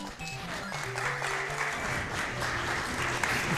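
An audience claps during a live Sonic Triple Trouble any% speedrun at the SGDQ 2015 marathon: dense, steady applause from a crowd, heard over tonal game music and sound effects.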